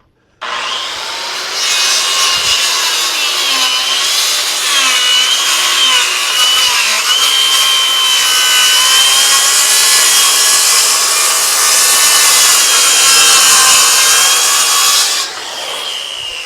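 A sawmill blade cuts along a squared timber beam, a loud continuous rasping wood-cutting roar with shifting pitch that starts abruptly, runs for about fourteen seconds and then drops away to a quieter machine hum.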